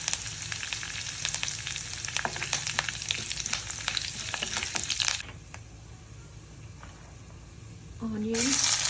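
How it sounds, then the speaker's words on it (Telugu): Cumin seeds and urad dal fry in hot oil in a pan, giving a steady crackling sizzle for about five seconds before it quiets to a softer background hiss; a short clatter comes near the end. "మినపప్పు ఇవి కొంచెం ఫ్రై అవ్వాలి."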